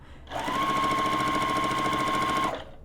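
A sewing machine runs in one steady, continuous burst of about two seconds, back stitching a dog bandana, close and loud with a sustained hum and no talking.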